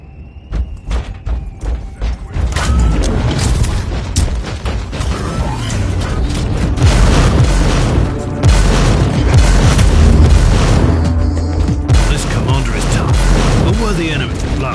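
Grenade blasts in a Warhammer 40K video game, heavy booming explosions that roll into a sustained loud rumble of battle, with game voices briefly over the start.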